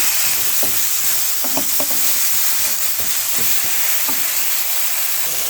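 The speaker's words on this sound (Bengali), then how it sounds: "সুন্দরভাবে ভাজা ভাজা হয়ে গেছে বেগুন আলু।" Eggplant and potato fry in a pan with salt, giving a loud, continuous sizzle and hiss, with occasional clacks of a spatula stirring, near and without voices.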